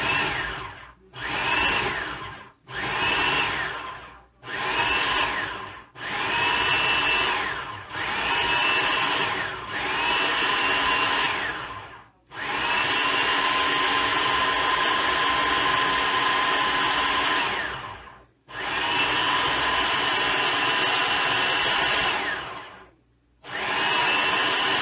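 A food processor pulses pie crust dough in loud repeated motor bursts, several short whirs separated by brief silences and then one long run of about six seconds, followed by a couple more pulses.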